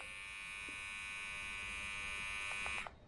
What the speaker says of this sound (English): Let me turn on the Manspot first.